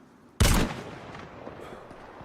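A single sharp gunshot blast in a video game, loud and close, decaying into a rumbling tail and quiet background.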